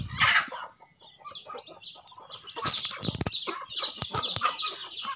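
Backyard chickens cluck in scattered bursts throughout, with a rooster crowing among them on a farm morning, close and fairly loud, with no talk.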